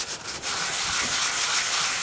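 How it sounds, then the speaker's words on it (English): Sanding discs work a surface in a dry, continuous rubbing rasp at close range, steady for about two seconds after a short choppy start. "Doing a lot of sanding there, Craig."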